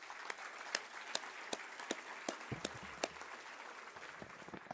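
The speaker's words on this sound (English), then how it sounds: "so let's give them a nice round of applause" Sparse applause from a small evening event audience honoring a sponsor, with scattered individual claps rather than a dense ovation, some thumps and faint murmur beneath.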